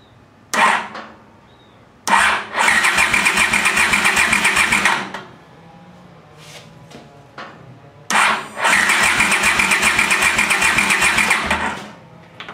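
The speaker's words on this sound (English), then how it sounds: "we can check this thing for spark now that we're turning the engine over." Honda CX500 motorcycle engine cranked over by the starter in two long bursts, a loud, even, rapid churning whir that stops abruptly each time, with quieter clicks and handling noises between.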